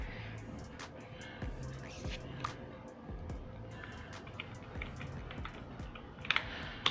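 Someone types an answer on a computer keyboard: a quick, irregular run of crisp key clicks with a few sharper taps near the end, fairly close and moderately quiet.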